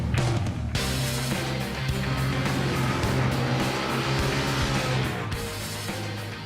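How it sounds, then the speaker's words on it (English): Ducati V-twin motorcycle engine revving loudly and continuously, a deep throbbing exhaust note with rising and falling pitch, close and dominant throughout, no voices. "you can also recognize a Ducati even with your eyes closed from the sound, the classic sound from a V-twin"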